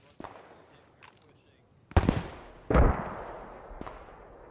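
Heavy booms from mortar fire in the war game Post Scriptum go off at irregular intervals, two loud near blasts with rumbling tails among fainter distant thuds, while voices talk on comms.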